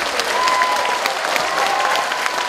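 A hall audience at a Korean traditional music concert in Miryang gives dense, sustained applause, loud and even throughout with a faint voice above it.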